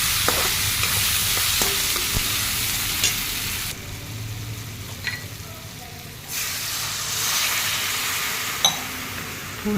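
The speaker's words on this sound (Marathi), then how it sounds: "फोडणी व्यवस्थित हलवून 2 मिनिटं शिजू द्यावी" A Maharashtrian phodni tempering for upma sizzles in a pan as it is stirred, a steady crackling hiss broken by a few scrapes and clinks, briefly quieter in the middle before the sizzle swells again.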